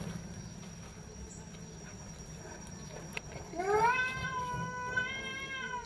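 Cats fighting some distance away let out one drawn-out, wavering yowl, faint above a low background hum.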